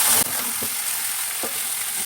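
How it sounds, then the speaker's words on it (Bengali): Fish fries with garlic in hot oil with a steady, dense sizzle, and a few brief scrapes of stirring break through. "রসুন দিয়ে মাছটা ভালো করে ভাজা ভাজা হয়ে গেছে"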